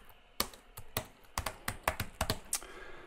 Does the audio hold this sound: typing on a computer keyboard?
yes